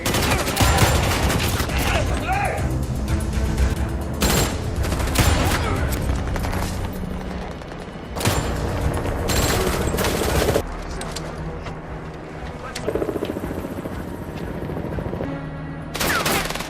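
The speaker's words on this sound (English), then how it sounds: "chaos ensues, igniting a violent shootout between law enforcement and Dragovic's men" Film gunfire in a violent shootout between police and gangsters at the docks: dense bursts of automatic fire and sharp single shots crack over a loud, continuous mix of booms and machinery noise, with some voices.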